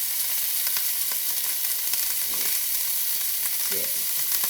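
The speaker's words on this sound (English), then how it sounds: "Let me sit and stew and simmer." Food stewing and simmering in a pan, a constant dense sizzle with light bubbling and an occasional stir, steady and close with no talking.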